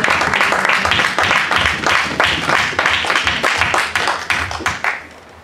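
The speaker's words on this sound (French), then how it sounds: "Une main d'acclamation à la parole de Dieu." A church congregation at a French-language sermon breaks into sustained, dense hand clapping that stays loud and steady for several seconds before thinning out at the end.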